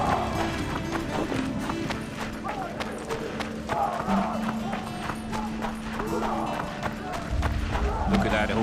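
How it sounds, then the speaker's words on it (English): Galloping hooves clatter steadily under a dense wash of battle noise and shouting crowds in The Witcher 2 video game, with a horse whinny briefly rising through the din. "Look at that horse, son."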